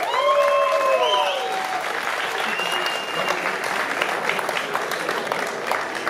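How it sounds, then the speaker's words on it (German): Audience applause after a charity professional boxing match at an arena in Essen, Germany: dense, steady clapping from a large crowd, strongest at the start, with voices and a few whistle-like tones over the first seconds. "Applaus für die beiden Fighter"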